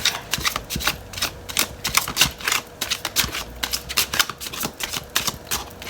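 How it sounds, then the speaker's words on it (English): A tarot card deck being shuffled in quick riffling bursts, a rapid crisp flutter repeating several times, close and fairly loud with no talking. "I feel like I'm supposed to shuffle again."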